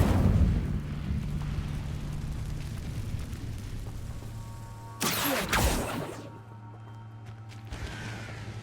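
An Incendio fire spell effect bursts midway as a sudden loud whooshing blast with a crashing roar that quickly fades, surrounded by a low steady hum before and after.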